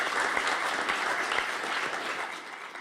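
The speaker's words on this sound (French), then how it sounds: "Ça applaudit." Studio audience applauding a musician, a steady, even patter of many hands at moderate distance, sustained throughout without talk over it.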